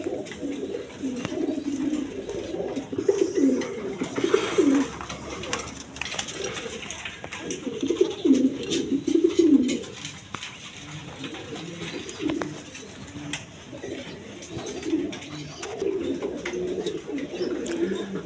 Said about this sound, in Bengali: দেখেন এইখানে এক পেয়ার কবুতর আছে